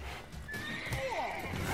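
Roach, the horse in The Witcher 3, lets out a sharp, wavering whinny over soft hoof clops and game ambience, close and fairly clear for under two seconds.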